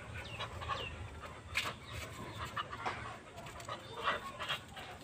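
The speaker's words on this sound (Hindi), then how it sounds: "रोड का कुत्ता है।" A stray street dog outdoors gives short, uneven bursts of panting and snuffling, fairly close and moderately loud over steady background noise.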